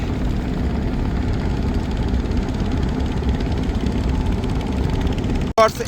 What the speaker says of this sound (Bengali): এই লঞ্চটা কিন্তু কড়া টান টানে এখনই দেখেন কি গতি